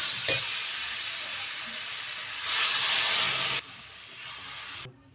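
Water poured into a pan of frying spices with potatoes and taro bursts into loud steamy sizzling and hissing that surges midway, then eases and drops off sharply; no voices.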